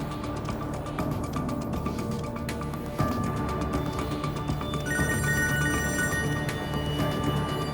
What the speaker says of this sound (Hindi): फोन तो उठाओ कम से कम।